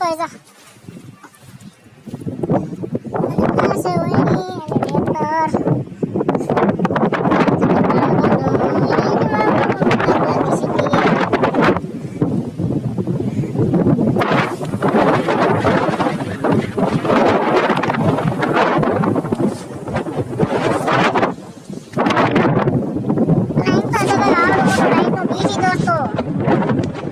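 Strong wind gusts roar across an open farm field, buffeting the microphone almost nonstop while people talk through it.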